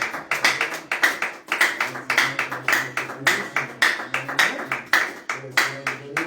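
A church congregation claps in steady rhythmic unison for the pastor, loud sharp claps repeating about twice a second, with voices and a low musical hum underneath.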